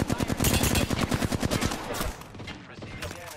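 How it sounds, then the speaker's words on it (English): Video game gunfire rattles in fast automatic bursts, loud and close for about two seconds, then thins into scattered quieter shots and distant firing. "Taking fire. Opening fire on the enemy."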